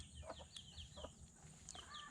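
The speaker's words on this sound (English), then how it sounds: "Sorry about the rooster." A rooster clucks and calls faintly in the background, with short repeated bird sounds over a low outdoor rumble, somewhere near a rifle range.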